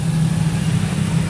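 Steady road and wind roar enters through the opened window of a moving Toyota Innova Zenix, a dense constant rumble with a low hum, loud and without talk.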